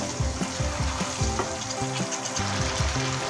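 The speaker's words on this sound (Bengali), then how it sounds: "এই আলু পটলের সাথেও কিন্তু মশলাটা একটু কষিয়ে নিতে হবে, ভালো করে আমি কষিয়ে নেব।" Potatoes and pointed gourd, already fried, being sautéed with spice paste in a pan, giving a steady close sizzle with repeated scraping stirs throughout.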